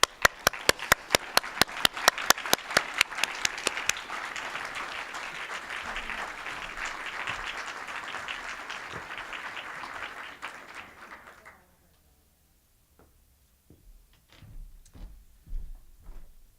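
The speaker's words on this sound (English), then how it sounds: "could you please stand as we give you a round of applause" An audience at a teaching celebration event claps, first a few sharp distinct claps, then a steady wash of applause that fades out around eleven seconds, followed by scattered faint knocks and room noises.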